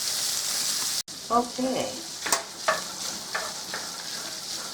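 Sausage sizzles loudly in a pan under a splatter screen for breakfast bowls, a steady bright fry broken by a brief cut, then a few clinks and pops as it cooks; a voice briefly speaks.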